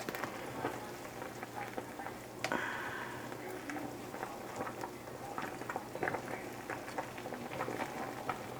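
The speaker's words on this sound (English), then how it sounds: "Gotta stir the pasta so it don't boil over." Pot of pasta water at a rolling boil on a home stove, a steady bubbling hiss with scattered pops and a brief clink midway, fairly faint and continuous.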